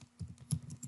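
Fast typing on a computer keyboard while entering checkbox labels in a JavaFX program. About half a dozen soft, close key clacks come in quick succession within one second.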